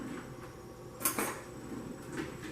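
A fork clinks against a bowl while beating raw eggs, a couple of short close metallic taps over quiet room noise, no talking.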